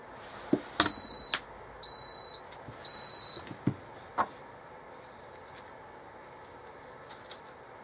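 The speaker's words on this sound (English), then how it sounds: "the timer just went off" A cooker timer on a pressure cooker making pot roast in an RV beeps three times in long, evenly spaced electronic tones, fairly loud, followed by a few faint clicks and handling sounds.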